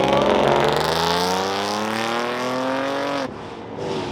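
Mopar cars leaving a 4th of July car meet, one engine revving loudly with a rising whine, then cutting off sharply as others pass.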